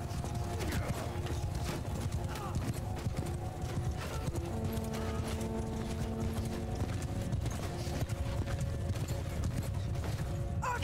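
Rapid horse hooves clattering continuously in Mount & Blade II: Bannerlord, beneath a low, steady background drone, with a faint sustained tonal hum in the middle.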